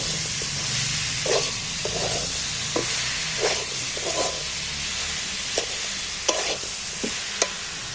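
Amla and jaggery are stirred in a pan over a steady low sizzle, with a spoon scraping the pan in repeated soft strokes that stand out clearly over the hiss.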